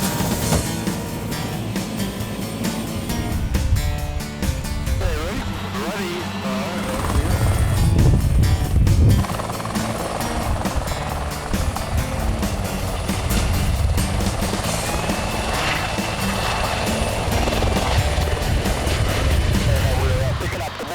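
Helicopter flying over Niagara Falls between Ontario, Canada and the United States, a steady loud rotor and engine drone running throughout under ongoing talk from people on board.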